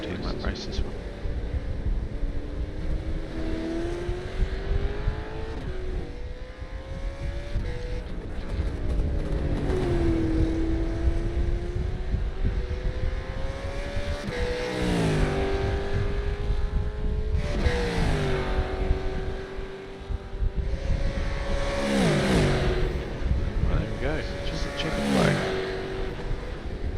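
Race cars roaring around a track near the end of a 17-lap race, engines rising and falling through gear changes as they pass, with wind buffeting the microphone and a commentator talking throughout.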